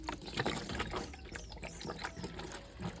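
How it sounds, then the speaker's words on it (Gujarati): Water is poured into the water tank of a Yuvraj mini tractor during servicing, a close, continuous trickling and splashing with uneven gurgles and no talking. "તો પહેલાં આપણે પાણી એમાં થોડુંક ઉમેરી દઈએ।"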